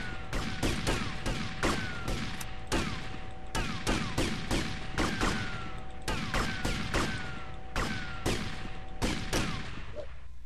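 Gunfire in the video game GTA Vice City crackles in rapid bursts of sharp shots, repeated across the whole stretch, with a steady tonal hum from the game behind it.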